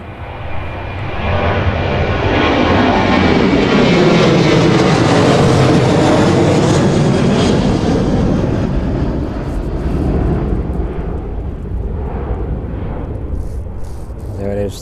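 An airliner takes off at East Midlands airport in strong storm winds, its engines giving a loud, sustained roar that swells and then slowly fades as it climbs away, with wind buffeting the microphone.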